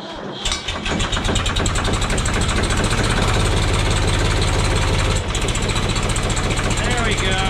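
Cold diesel engine on a snow plow truck cranking and catching after an ether spray, then settling into a loud, close, rough, rattling idle, with a brief dip in the running partway through.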